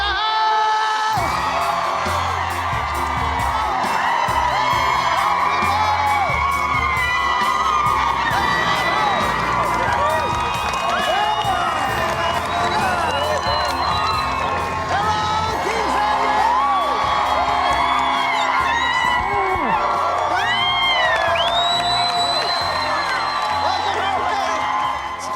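Large outdoor crowd cheering and whooping at a family's new home reveal, a loud continuous roar of shouts and screams, children's voices among them, sustained throughout with people calling out.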